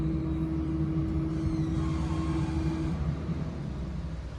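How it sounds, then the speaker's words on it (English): A garbage truck passes by outside, a steady loud engine drone with a low rumbling hum and a sustained tonal whine that holds for about three seconds before easing slightly. "It's like the trash truck or something coming by."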